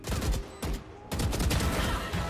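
Several close, loud bursts of gunshots in a competitive shooter video game match, coming in quick clusters with short gaps between them.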